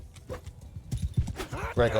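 Horse galloping in the video game Mount & Blade II: Bannerlord: rapid hoofbeats with a whinny near the end, close and loud, under someone talking.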